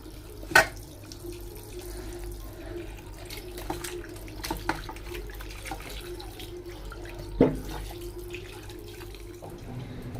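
Tap water runs continuously at moderate distance while things are washed indoors, with a few sharp clinks and splashes standing out above the steady flow.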